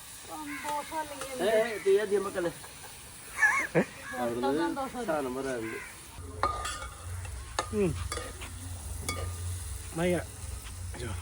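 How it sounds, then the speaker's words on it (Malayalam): Onion, ginger and green chillies sautéing in a pan give a steady, moderate sizzle with stirring scrapes, starting midway after someone talks over a quieter stretch. "സവാള ഇഞ്ചി പച്ചമുളകൊക്കെ നന്നായിട്ട് വാടി വന്നിട്ടുണ്ട്."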